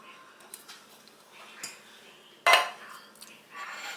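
A few light clinks and scrapes in a metal pot, ending in one sharper clatter as drained canned Italian green beans are tipped in, close by and otherwise quiet.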